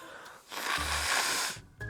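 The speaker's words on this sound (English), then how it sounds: "I gotta blow my nose." A close, forceful blowing of the nose lasting about a second, a rough breathy rush of air with a short snuffle after.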